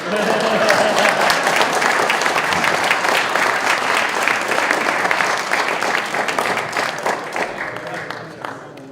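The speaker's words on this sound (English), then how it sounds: "Where's my applause, everybody?" An audience at an Armed Forces Day gathering breaks into sustained applause, dense steady clapping close by that fades gradually toward the end, with voices mixed in.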